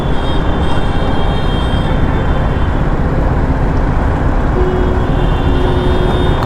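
Dense road traffic heard from a KTM RC 200 motorcycle, with a steady loud roar of engines and road noise filling the whole stretch, no speech over it.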